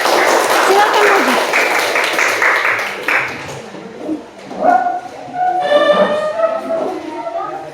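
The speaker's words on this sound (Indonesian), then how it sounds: "Tepuk tangan dulu untuk kelompok 1" A classroom of students claps for the first group, a dense burst of applause lasting about three seconds before it fades into chatter, a voice and some high squeaky sounds.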